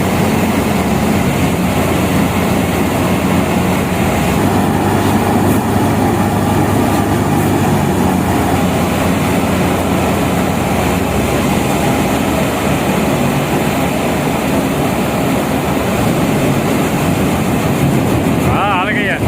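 Threshing machine running in a village, a loud, steady mechanical roar and clatter with a dense engine drone throughout, close by and continuous.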